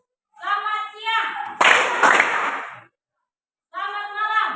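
A class of children claps twice on cue, a short burst of applause-like hand claps in a classroom, framed by a teacher's spoken phrases before and after.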